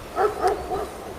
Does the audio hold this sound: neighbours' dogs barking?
yes